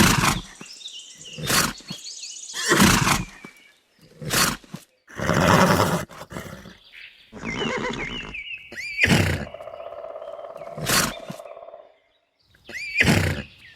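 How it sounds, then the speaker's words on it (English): A horse on a farm lets out a series of loud, close neighs and whinnies, shrill bursts separated by short gaps of silence, with no speech. "Horse."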